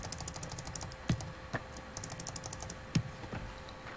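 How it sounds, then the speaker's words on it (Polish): Keys pressed on a computer keyboard during a game give sparse, sharp close clicks, a few louder taps standing out over a steady background hum and faint game sound. "to gram na klawiaturze."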